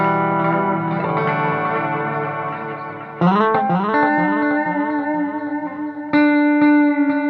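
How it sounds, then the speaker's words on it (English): Electric guitar played with a David Gilmour style tone through a delay effect, loud sustained notes and bends whose repeats echo and trail off, with a new struck note around three seconds and another near six; no talking. "That's the effect of a little bit of delay"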